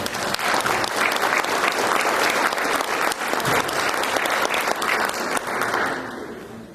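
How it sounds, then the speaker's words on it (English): A conference audience applauds a government official, a dense, steady wash of many hands clapping that fills the room for several seconds before beginning to fade. "Let's give him a round of applause."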